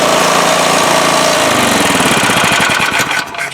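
A motorbike engine fitted with a new exhaust runs loud and rough, a dense roaring drone that breaks into rapid pulsing firing beats toward the end as the revs drop, with no talk.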